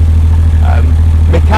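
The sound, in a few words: Porsche 911 Carrera 993 rear engine running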